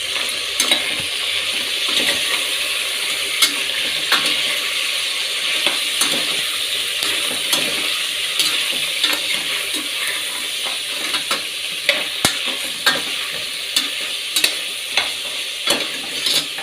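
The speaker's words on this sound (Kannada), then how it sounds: "ಆಯಿಲ್ಲು, ಸ್ವಲ್ಪ ಅರಿಶಿನ ಪೌಡರು ಮತ್ತು ಏಡಿಕಾಯಿ ಹಾಕಿ ಚೆನ್ನಾಗಿ ಫ್ರೈ ಮಾಡ್ಕೊಳ್ಳೋಣ" Red crab fries in oil with turmeric powder, a loud, continuous crackling sizzle with frequent sharp pops and occasional stirring throughout, no voices.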